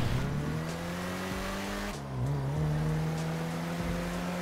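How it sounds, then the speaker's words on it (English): Vehicles in the GTA 5 video game screech and collide in a crash, a steady engine drone running loudly throughout, with a sharp dip and squeal near the midpoint before the motor resumes. "Somebody just crashed into me."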